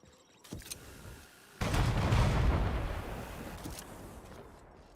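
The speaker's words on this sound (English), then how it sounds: "Airstrike incoming" Airstrike explosions in a video game land as a sudden loud broadband blast after a brief earlier thump, then a long rumbling roll that slowly fades.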